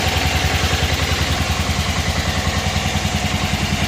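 A 1988 Club Car golf cart engine idles steadily up close, a rhythmic low putter with a dense clattering pulse that holds even throughout.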